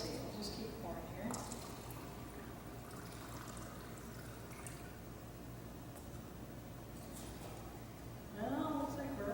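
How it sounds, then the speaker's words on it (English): Liquid is poured steadily into cups during a stage magic trick, a soft continuous trickle running throughout at low level, with a brief louder splash near the end. "We'll just keep pouring here."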